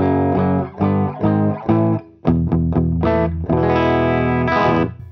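Clean electric guitar chords through a Fender Deluxe Reverb tube amp strummed in short bursts with brief gaps between them, warm and fairly loud, ringing out at the end, no voices.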